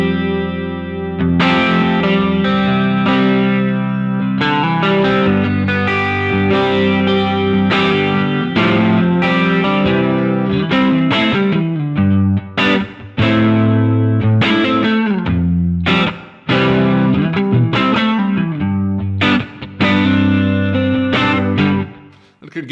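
Electric guitar played through a Browne SSHAC chorus pedal with the speed knob at minimum, strumming a steady run of chords and single notes for over twenty seconds, close and full, with a slow, subtle shimmer and no talking.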